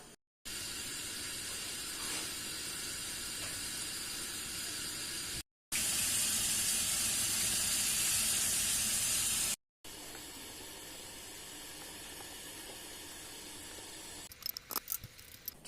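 A potato filling for a pan börek sautés in a little oil on the stove, a steady, even hiss of sizzling heard in three separate stretches with brief silent cuts, ending with a few clattering knocks.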